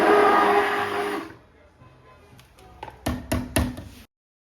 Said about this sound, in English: Once it's cooked, I'll use a hand blender to whiz it all up,